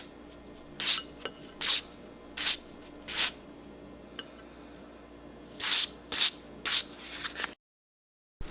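Hand sanding of a soldered metal mount, heard as seven short, dry rasping strokes in two groups, the first four evenly spaced and the last three after a pause, each a brief scrape over a quiet background.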